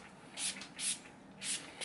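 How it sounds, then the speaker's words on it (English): Urban Decay All Nighter Setting Spray misted onto a face, three short soft hissing bursts with pauses between them, close and fairly quiet. "the Urban Decay All Nighter Setting Spray"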